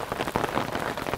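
Rain mixed with hail drums on the surroundings at a carp fishing pond, a dense, continuous patter of close hits with no voices over it.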